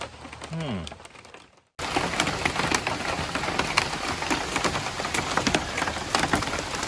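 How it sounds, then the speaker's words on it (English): Dense rain patters and hisses steadily on surfaces after a brief drop-out, with a faint voice-like sound early on and scattered sharper drip hits. "And it's absolutely pouring with rain"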